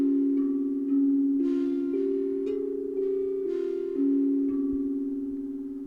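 A melodic instrument tuned to an Ethiopian pentatonic scale plays a slow line of sustained notes that step between pitches, alone and fairly loud with no talking.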